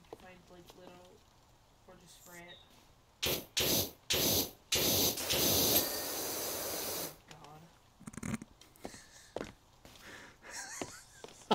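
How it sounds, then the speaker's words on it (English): A pressure washer in the video game Powerwash Simulator sprays in several loud hissing bursts of varying length, the longest lasting a few seconds, with quiet talk between them. "We were both spraying at the same time."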